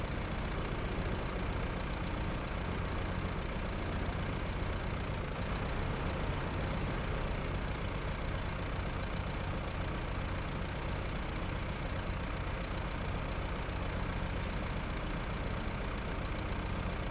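A truck engine idles in SnowRunner, hauling an attached tractor down a hill; a steady, dense low rumble carries on unchanged the whole time with no speech over it.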